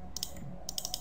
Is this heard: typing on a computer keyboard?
yes